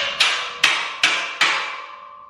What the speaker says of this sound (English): Make sure you guys get a little hammer like this one.